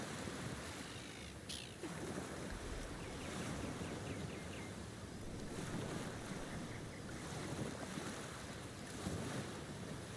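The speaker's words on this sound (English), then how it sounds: "the sounds of the ocean" Ocean surf ambience from the video game Divinity: Original Sin, steady waves washing in with wind noise, a continuous moderately loud wash that rises and falls gently, with no talk.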